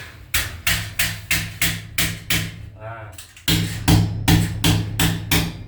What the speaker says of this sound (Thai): แล้วก็เราใช้ตอกตะปูนะครับ